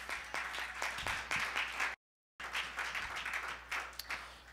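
A church congregation claps and applauds in a dense, continuous burst, with a short gap of silence partway through.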